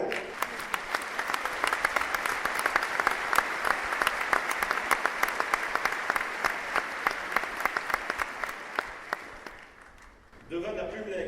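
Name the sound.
applause, an ovation for Bernard Hinault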